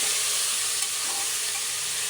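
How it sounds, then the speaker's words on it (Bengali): Vegetables frying in a pan for vegetable khichuri, a steady close sizzle with soft stirring scrapes throughout, no voices. "দিয়ে কিছুক্ষণ নাড়াচাড়া করব"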